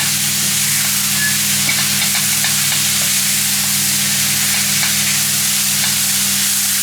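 Meat browns in a hot pan with a steady, close sizzle and crackle and occasional small pops, alone without talk.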